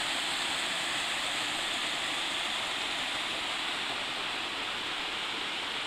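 Water cascades down a stream through a small mountain gorge near Mount Shaw in New Hampshire, a dense constant rushing roar, close and loud, with no voices.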